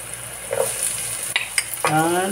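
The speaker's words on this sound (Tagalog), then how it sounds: "Ilagay natin ang ating sibuyas." Chopped onions hitting hot oil in a pan while cooking pork dinuguan, a steady close sizzle with scraping stirs and a louder sizzling burst near the end, no talking.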